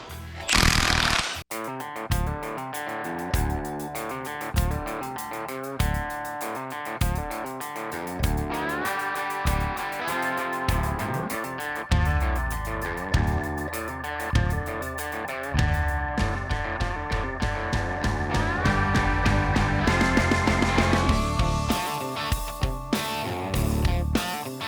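Chrome socket on an impact wrench working a 6.7 Cummins engine, rattling out in repeated loud hammering bursts that run nearly continuously with short pauses between, with no talking.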